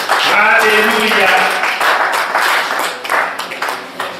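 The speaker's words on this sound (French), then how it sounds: "Applaudissez pour le Seigneur Jésus" Church congregation applauding, a dense burst of clapping beneath a loud voice and scattered singing-like tones, fading into looser claps toward the end.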